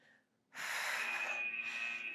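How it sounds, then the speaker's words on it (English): Heavy, strained breathing during a band and bodyweight workout with leg drills, loud and close, starting after a brief quiet moment and continuing steadily with wheezy, rasping breaths. "you can hear me breathing hard here."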